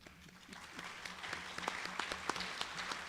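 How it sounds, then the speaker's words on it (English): Audience applause at a live debate event, moderate and steady with scattered individual claps standing out over a diffuse crowd wash for about three seconds. "let's have a big applause for both of them again for this whole round 3"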